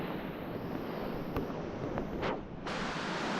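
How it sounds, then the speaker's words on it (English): Steady broadband rush of flowing stream water in Washington back country, continuous and fairly close, with wind buffeting the microphone and a few brief brighter splashes; no talking. "Nice flowing water."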